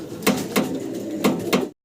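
Fancy pigeons for sale coo in a few soft, repeated bursts close by, the calls arriving in short pulses with brief gaps, ending abruptly in silence.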